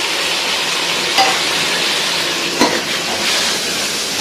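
Finely chopped tomatoes and a kilo of chicken fry in a pan with a loud, steady, close sizzle. A couple of faint utensil clinks break through now and then.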